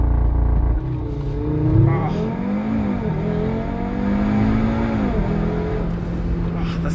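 A 2017 Audi RS3 8V2 with the 400 hp five-cylinder and S-tronic transmission launches hard under launch control. Engine pitch rises and falls through quick upshifts, loud and close from inside the cabin, with a voice briefly over it.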